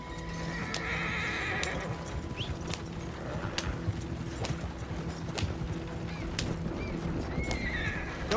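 A horse ridden in Red Dead Redemption 2 gives a whinny amid brisk, close clip-clop hoofbeats and sharp tack clicks, with no talk.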